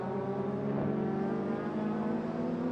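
Several race cars, including a Holden Commodore, roar through the hairpin at Sydney Motorsport Park in a close four-car battle, engines droning loudly and continuously with shifting pitch as they jostle through the corner.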